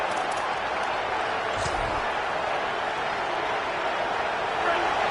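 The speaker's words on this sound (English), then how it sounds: "This crowd bringing the energy and noise early." A football video game plays a stadium crowd roaring steadily throughout, a dense wash of cheering and noise during an Iowa versus Nebraska game.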